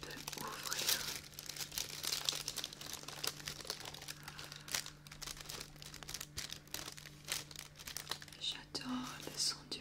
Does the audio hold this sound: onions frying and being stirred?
no